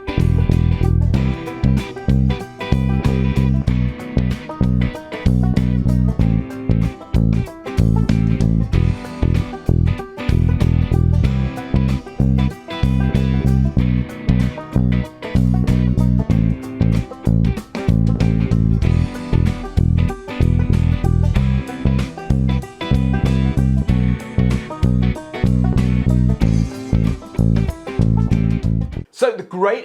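Walking bass line built on roots, fifths and octaves, played over a full backing track; steady plucked bass notes drive continuously beneath drums and chords for the whole stretch, loud and busy throughout.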